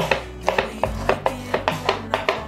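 A knife chops shredded carrot into short pieces on a cutting board. About a dozen crisp, evenly spaced chops knock in a brisk, steady rhythm, close and clear, with no talk.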